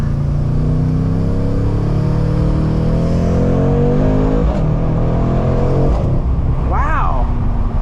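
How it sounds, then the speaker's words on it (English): A 2021 Mercedes-AMG C63 S coupe with its V8 accelerating hard on a street: a deep, loud engine roar rising through gears, with sharp exhaust pops and crackles near the end, heard from inside with a voice over it. "Wow, those pops and bangs sound really good"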